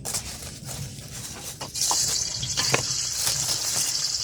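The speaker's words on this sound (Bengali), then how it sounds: "মাছটা দিয়ে সুন্দরভাবে ভেজে নিব" Shol fish drops into hot oil for a mother's lau and shol fish curry, the quiet pan suddenly erupting into a loud, steady hissing sizzle with scattered crackles, close and unaccompanied by voices.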